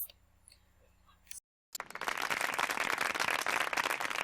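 After a quiet stretch and a brief gap, a crowd in a Simpsons scene breaks into loud, sustained applause, a dense wash of many hands clapping that continues to the end.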